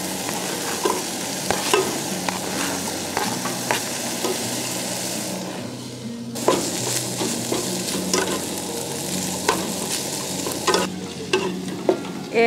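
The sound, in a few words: ground beef and onion frying in pan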